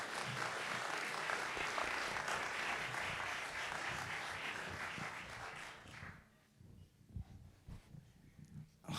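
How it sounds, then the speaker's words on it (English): Dense applause from a panel discussion audience fills most of the clip, steady and loud, then thins out into scattered claps and room noise. "Please join me in giving a round of applause for all of our panelists."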